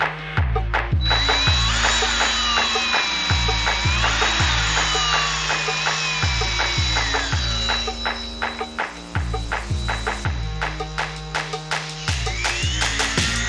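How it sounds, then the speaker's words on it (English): Dremel rotary tool cleaning up a bicycle hub cone, a close, loud high-pitched whine that rises and dips with repeated short bursts and pauses as the tool is worked against the metal. "we're going to start to clean it up with the Dremel"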